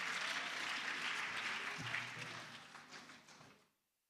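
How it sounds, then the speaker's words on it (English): A summit audience at the Girl Child Summit 2023 applauds a speaker receiving a sustainability award, dense clapping that holds steady and then thins and fades out into near silence. "Please, a big round of applause for Mrs."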